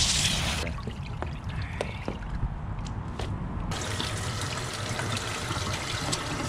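A tie-dyed cotton t-shirt is rinsed under a running tap, with a steady close splashing rush of water that turns fuller and louder partway through.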